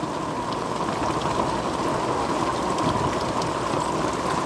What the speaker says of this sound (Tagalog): Ulan na nga.